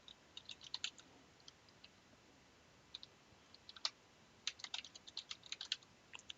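Login username and password typed on a computer keyboard: sparse, irregular key clicks in short bursts with pauses, close and fairly quiet, no voices.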